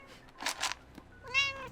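A female house cat meows up close, a short, clear, rising call heard alone after a few soft rustles.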